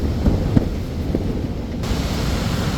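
Storm Lilian's north wind, gusting to around 55 mph, buffets a camping tent with a loud, rumbling whoosh and a few sharp flaps and thumps against the fabric throughout.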